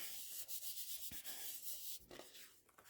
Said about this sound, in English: you can even turn it over and give it a nice rub, make sure that glue is all stuck down